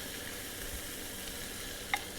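Chaffle batter with Parmesan cheese sizzles steadily in a hot waffle iron, a continuous close frying hiss with one brief sharper click near the end.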